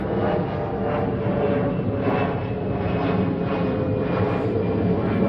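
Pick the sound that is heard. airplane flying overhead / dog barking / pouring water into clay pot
airplane flying overhead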